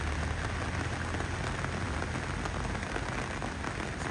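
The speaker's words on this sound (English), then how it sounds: "we're just walking up this rainy kind of road" Steady rain falling on a road in the town of Sertã, Portugal, a dense continuous hiss of drops close by, with no voices.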